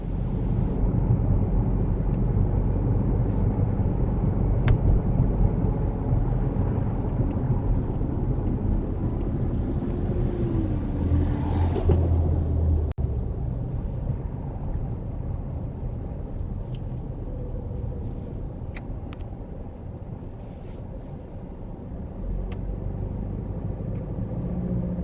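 Steady broadband road noise from westbound city car traffic on Bloor Street West near the Kingsway, a continuous close rumble and engine drone with a brief rising engine whine midway, no voices.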